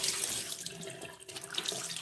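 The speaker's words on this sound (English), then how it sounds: "now we're going to turn our water back on" A bathroom tap runs steadily, water splashing into a sink in a soft continuous hiss, nearby and fairly quiet, without speech.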